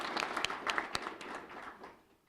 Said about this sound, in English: a round of applause for Jessica.